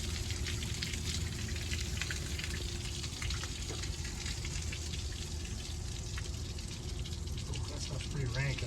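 Water drains and rinses out of the cooling system of a Cat 3126A diesel engine, a steady, close rushing gush that keeps going without a break through the whole stretch.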